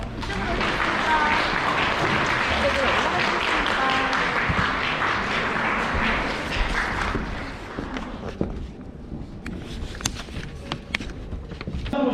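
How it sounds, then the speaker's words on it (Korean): Sustained applause from a crowd at a wedding ceremony fills the room for several seconds, then fades into scattered claps and room noise. "큰 박수로 맞이주시기 바랍니다"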